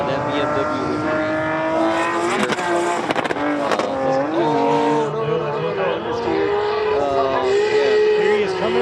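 A brand-new BMW Z4 drift car on track at Fuji Speedway during Formula Drift Japan qualifying, its engine droning and rising and falling in pitch continuously under loud, excited commentary.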